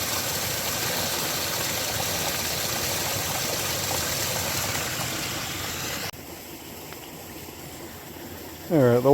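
Creek water runs through a gravity-fed line into a tank in an off-grid system, a steady rushing flow that drops to a quieter trickle near the end, with a brief voice at the close.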